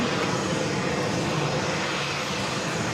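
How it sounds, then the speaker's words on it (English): A Boeing 777-200ER inbound to JFK from LAX gives a steady, broadband jet engine roar with no breaks for the full few seconds, heard alone without any voices. "We have a 777 at 200ER coming up from LAX Flight 2"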